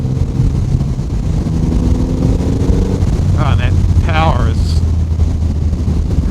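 A 2024 Triumph Rocket 3 GT Storm motorcycle cruises on a motorway at about 110, engine near 2,500 RPM, making a steady low drone buried under constant heavy wind rush, with brief vocal sounds partway through.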